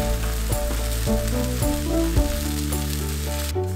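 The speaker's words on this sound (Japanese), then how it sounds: "早く水分が飛ぶようになるべく大きなフライパンで炒めるのがポイント。" Homemade consommé paste being stir-fried in a large frying pan, a continuous moderate sizzle over low steady background music, with occasional scraping stirs.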